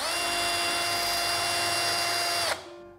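A corded impact drill fitted with a steel wire brush whines loudly and steadily up close, then winds down abruptly near the end.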